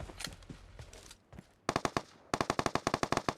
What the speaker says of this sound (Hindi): गुस्सा होकर भैया मुझ पे फायर करता है